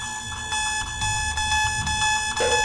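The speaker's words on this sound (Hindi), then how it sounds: "अलार्म तो चालू हो गया" Several alarm clocks ring together in a bedroom, a steady, loud, continuous metallic jangle of bells lasting throughout, close by, with no talking.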